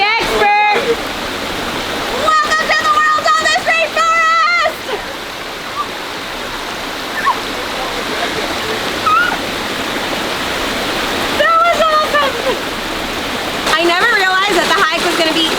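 Waterfall in Khao Sok National Park, a steady broadband rush of falling water running the whole time, with voices talking over it in bursts near the start and end.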